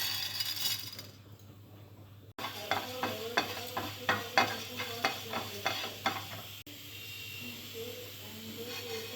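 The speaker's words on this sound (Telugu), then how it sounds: "స్టవ్ మీద వేరొక ప్యాన్ పెట్టుకుని దాల్చిన చెక్క, లవంగాలు, కొద్దిగా ధనియాలు వేసి రోస్ట్ చేసుకోవాలి." Cinnamon, cloves and coriander seeds dry-roasting in a pan, with a steady run of close scraping and rattling stir strokes over a soft sizzle, no voices.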